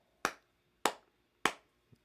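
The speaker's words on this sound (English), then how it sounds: "Now let's try clapping." Three sharp, evenly spaced claps ring out at a steady beat as the audience claps along at a bilingual children's concert, each clap crisp and close with quick decay.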